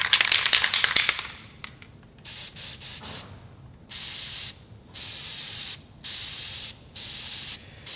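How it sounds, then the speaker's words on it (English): SKD S2 developer aerosol sprayed onto a weld for dye penetrant testing: a burst of rattling and hissing up front, then four or five steady, close hissing sprays of about a second each, separated by short pauses. "We use some SKD S2 developer."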